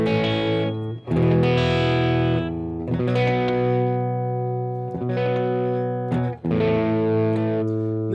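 Electric guitar with a crunchy overdriven tone playing sustained chords, each ringing out before a brief pause and the next strum.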